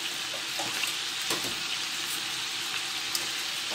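Meat sizzles steadily in a pan while being fried for a lamb tagine, a constant close hiss with small crackles and no voices.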